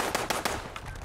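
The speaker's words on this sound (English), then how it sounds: "Who's shooting me?" Fallout 76 gunfire aimed at the player: a quick burst of several loud, evenly spaced machine-gun shots with no voices.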